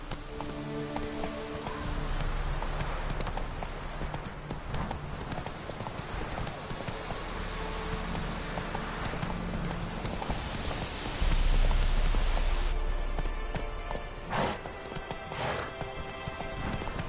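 A horse's hooves clip-clop at a brisk, steady rhythm while riding in the video game Witcher 3, close and continuous, with a soft rain-like patter beneath.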